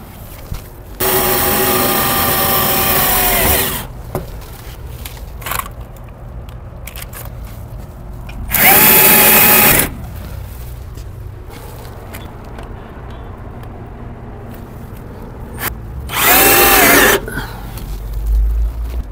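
A power drill bores screw holes in three loud bursts of a few seconds each, separated by quieter handling and small knocks.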